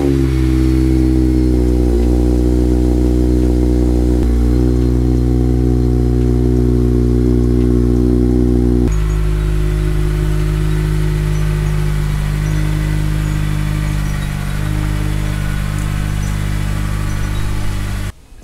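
An Acura RSX Type S engine cold-starts and holds a loud, steady high idle with a strong low hum, then settles to a lower idle about halfway through, close by and alone.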